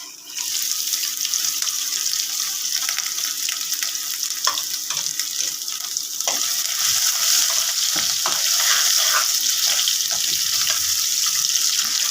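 Ginger sizzling as it hits a hot pan for paneer bhurji, a loud continuous frying hiss with scattered pops and crackles running throughout, close and steady.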